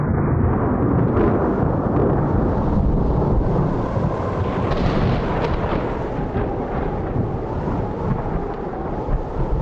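Continuous rolling thunder rumbles loud and close for the full stretch, a heavy low storm roar with no pauses or voices, used as a sound effect in a stage-style reading.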